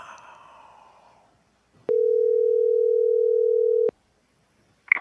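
Steady telephone dial tone before a call is placed, a clean continuous hum lasting about two seconds after a quiet stretch, with faint background noise before it and a brief click at the end.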